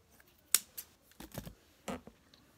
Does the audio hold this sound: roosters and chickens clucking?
no